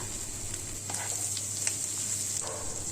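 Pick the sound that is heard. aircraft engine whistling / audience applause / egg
egg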